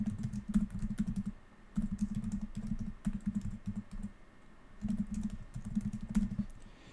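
Rapid typing on a computer keyboard comes in several bursts of clicking keystrokes separated by short pauses, close and moderately loud, with no talking.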